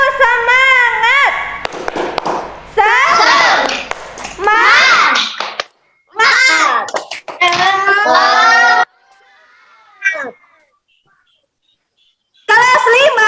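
A class of fifth-grade children perform the tepuk semangat clapping chant in short bursts, voices chanting together with rhythmic hand claps, separated by brief pauses and a quick tap.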